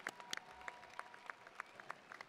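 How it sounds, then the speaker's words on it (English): Faint, distant clapping from the crowd at a 2021 high school graduation ceremony, with scattered individual claps popping out of a quiet hall, no talk over it. "And for us, we get to clap for you."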